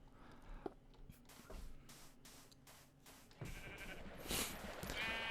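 A sheep bleats in the Minecraft video game, short game-animal calls over a steady background of ambient sound that grows louder toward the end.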